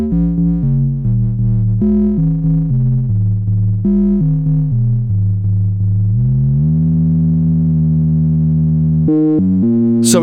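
A Kawai 100F analog synthesizer plays buzzy FM-style filter tones, a sequence of short stepped notes in a choppy rhythm, then a long sustained tone and a few final stabs, loud and solo.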